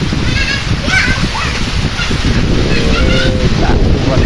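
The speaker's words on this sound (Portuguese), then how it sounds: "A chuva forte aqui no Rio Grande do Norte, tem Palheiro Açu." Heavy rain pours on a farm in Rio Grande do Norte's sertão, a loud steady wash of splashing water mixed with strong wind buffeting the microphone, while someone talks over it.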